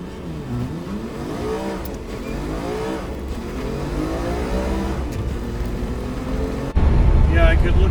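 A truck towing a trailer pulls away on a very windy day, its engine rising and falling steadily through the gears, loud and continuous, with a heavier rumble near the end.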